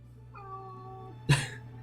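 A single cat meows once, close and clear: a short rising tonal call followed by a sharper, louder burst near the end, with a low steady hum underneath.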